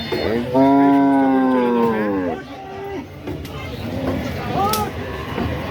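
Cattle at a cattle market in Shahjadpur, Sirajganj: one loud, drawn-out moo close by, followed by fainter lowing and busy crowd noise, with people talking in the background.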